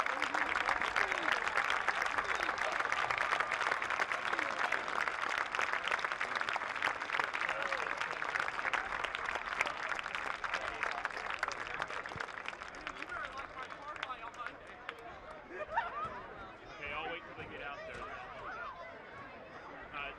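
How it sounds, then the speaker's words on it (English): A stadium crowd at a high school football game applauds honorees before the anthem, with sustained, dense clapping and cheering that holds steady, then gradually thins and fades while a few voices talk. "Let's give all of these honorees a big round of applause."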